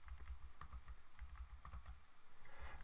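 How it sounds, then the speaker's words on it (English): Quick bursts of typing on a computer keyboard, close and fairly quiet, with rapid irregular clicks of individual keys and no talking. "just type out that word average, grab two cells, and let's copy that down."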